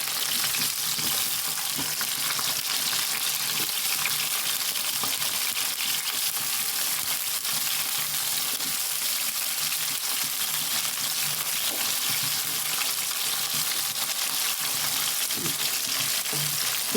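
Onions and tomatoes sizzle steadily in a pan while fish is being cooked, a continuous close frying hiss with faint stirring scrapes throughout, no talking.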